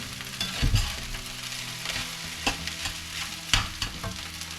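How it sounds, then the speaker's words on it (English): Fried rice sizzles and crackles steadily in a hot pan, with occasional scraping and stirring clatter, close up. "And here it's still sizzling."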